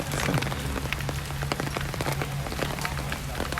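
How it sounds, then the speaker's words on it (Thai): Rain comes down harder on an outdoor sepak takraw court, a dense steady patter of drops hitting the surface with scattered sharper splats and a faint low hum beneath. "อ่าวฝนเริ่มลงมาหนักกว่าเดิมแล้วครับ"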